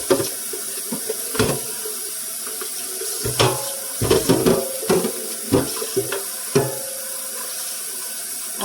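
Hot water from a kitchen sink faucet runs and splashes while dishes are washed, with a steady close stream broken by repeated clattering knocks and splashes of items being handled, and no voices.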